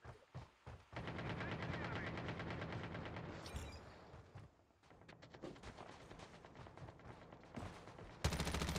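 Automatic weapon fire in Call of Duty Mobile's battle royale squad mode: loud sustained bursts of rapid gunshots dominate, dip briefly, then resume in choppier volleys, with a sharp blast near the end.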